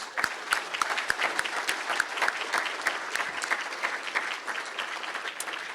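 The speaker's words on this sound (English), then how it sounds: "we'd like to give one more round of applause for our Hall of Fame class of 2026" A large Hall of Fame ceremony crowd applauds the class of 2026 inductees, with dense, sustained clapping and frequent crisp nearby claps holding a lively, steady level.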